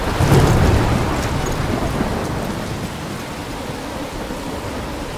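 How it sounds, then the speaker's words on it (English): Steady heavy rain and a deep, rolling thunderstorm in the video game Life is Strange, loudest at the start and then settling into a constant wash of downpour with no voices. "I'm trapped in a storm?"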